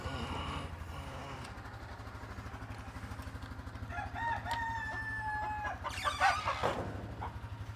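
Farm chickens cluck and a rooster crows, with a sick hen among the flock; a steady low engine-like hum runs underneath, and a brief louder flurry of squawking comes near the end.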